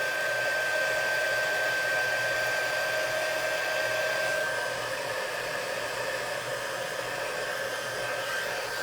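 A heat tool melting embossing powder on a card runs as a steady, close, loud blowing whoosh with a fan whine that holds constant and eases slightly partway through.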